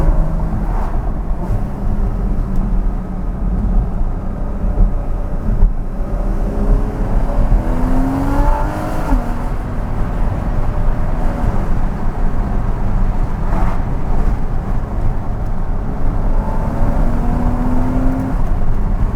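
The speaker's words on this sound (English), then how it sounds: "I'm just gonna shut up and let you guys listen to this flat six." Flat-six engine of a Porsche 981 Cayman S revving and pulling hard during a drive, a steady loud drone rising and falling in pitch as the revs climb and drop, with no talk over it.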